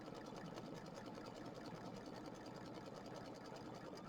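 An embroidery machine stitches a pumpkin design, running lines through the middle before satin stitching the outline, with a steady fast needle chatter and motor hum, continuous and faint, with no voices.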